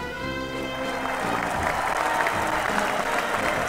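A steady round of applause and crowd noise on a radio sports show, continuous and fairly loud, beginning over the tail of a fading musical tone.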